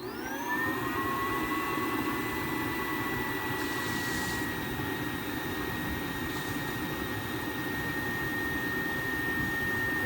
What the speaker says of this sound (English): I'll open up the valve for this, turn it on blower, turn on the blower.